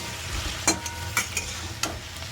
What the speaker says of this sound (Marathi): टमाटर पण त्याच तेलात भाजून घेते.